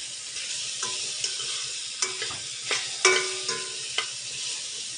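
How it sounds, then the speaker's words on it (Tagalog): Steady sizzling of chayote sautéing in a hot pan with occasional scraping stirs and clinks of a utensil, close up and continuous with no voices. "sabay natin po siyang gisa-gisahin lang natin yung sayote"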